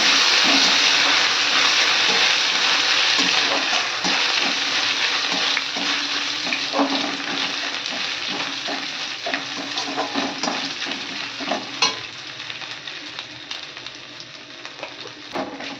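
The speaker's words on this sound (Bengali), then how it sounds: "এখানে সেই থেতো করে রাখা আদাটা, পাঁচফোড়নটা একটু ভেজে নেব।" Crushed ginger and panch phoron spices fry in hot mustard oil, a dense, steady crackling sizzle that stays loud throughout, with small spattering pops growing more distinct toward the end.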